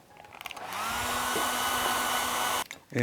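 A hair dryer drying ink-wash painting paper whirs on and blows steadily for about two seconds at close range, a loud constant rushing hum, then cuts off abruptly.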